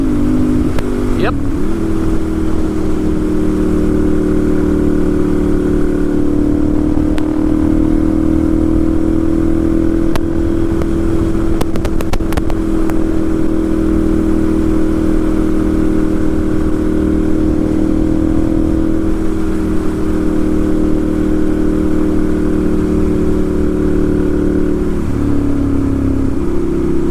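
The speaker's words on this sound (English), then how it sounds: "That exhaust is just awesome, man. It's that Ducati sound." A 2012 Ducati 796 Monster's aftermarket exhaust rumbles close and loud for nearly half a minute, a steady throbbing engine note with brief throttle changes near the start and end.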